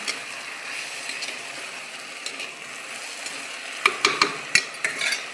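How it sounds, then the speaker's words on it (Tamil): Ground tomato paste is stirred into a pan, a soft continuous scraping and faint sizzle, with a run of sharper spoon clicks against the pan near the end. "சேர்த்து ரெண்டையும் நல்லா மிக்ஸ் பண்ணிடுங்க."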